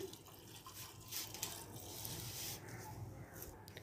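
Water pours steadily into a metal pressure cooker, a continuous splashing trickle, close and fairly quiet.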